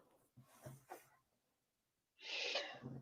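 A single short sneeze bursts out clearly after a few faint breaths and soft vocal sounds in an otherwise quiet room.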